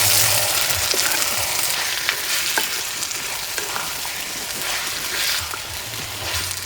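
Small pieces of chicken with a spoonful each of salt and turmeric are stirred in a pan, giving a loud continuous sizzle with repeated scraping and tapping strokes of the spoon and no voice.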